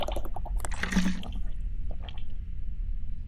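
Splashing water sound effect from the video game HetaOni, a short burst of liquid sloshing and dripping near the start, then quieter trickles, heard alone with no talk.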